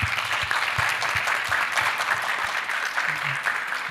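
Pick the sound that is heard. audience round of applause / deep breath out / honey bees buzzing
audience round of applause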